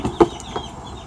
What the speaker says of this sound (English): So now I'm gonna bring them inside with the bin I was talking about earlier